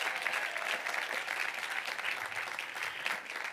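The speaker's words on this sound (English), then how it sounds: "So I think you should give them a second round of applause for all of their help" An audience at a graduation ceremony claps for the graduates' families and friends, a steady, fairly distant wash of applause that holds evenly without voices standing out.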